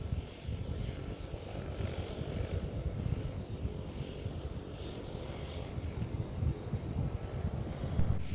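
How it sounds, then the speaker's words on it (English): A Kenmore Air de Havilland DHC-3 Otter seaplane, built in Canada, drones with a steady, fairly distant piston-engine and propeller rumble on a blustery day in Victoria BC, with wind buffeting the microphone throughout. "This Kenmore Air de Havilland DHC3 Otter is ident November 50 Kilo Alpha"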